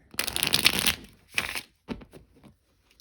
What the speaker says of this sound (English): Let's give him one more shuffle.